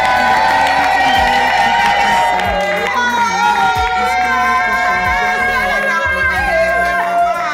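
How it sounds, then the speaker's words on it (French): A Congolese wedding congregation cheers and acclaims loudly, a dense roar of shouting and whooping voices that holds steady throughout, with music running underneath. "Est-ce qu'on peut acclamer le Seigneur?"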